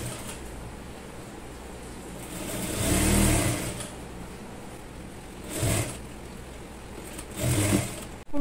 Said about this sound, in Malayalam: നമുക്ക് ഇതിന്റെ താഴത്തെ സൈഡ് ഒന്ന് മടക്കിയിട്ട് സ്റ്റിച്ച് ചെയ്ത് എടുക്കാം